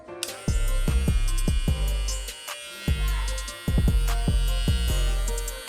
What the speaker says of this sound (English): So it's got a nice hum to it, not too loud honestly, compared to most other trimmers.